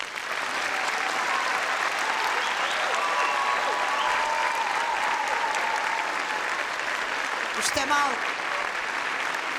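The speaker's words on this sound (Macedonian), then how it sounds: "Сега ве замолувам најголемиот аплауз за нашите ученици" Audience applause for students at a concert, a steady dense clapping that fills the room and continues throughout, with a voice speaking briefly near the end.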